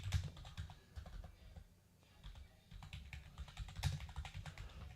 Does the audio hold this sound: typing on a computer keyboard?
yes